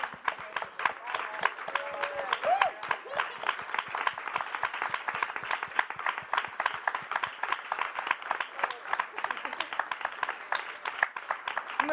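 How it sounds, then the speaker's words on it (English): A conference audience breaks into sustained applause, dense clapping from many hands holding steady throughout, with a voice briefly audible beneath it. "I'd like actually on that note to just ask everyone to join me in a round of applause."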